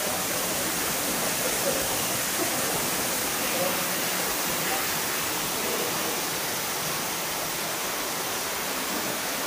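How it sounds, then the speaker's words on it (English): An indoor waterfall at Tropical World in Leeds: a steady, dense hiss of falling water, constant and fairly loud throughout, with no distinct talking over it. "Another view from the other side of the waterfall"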